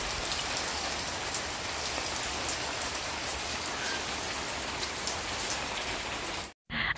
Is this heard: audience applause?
no